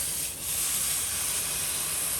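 Thin pieces of blackened chicken sizzle on a hot grill, a steady close hiss that holds evenly throughout with no voices over it.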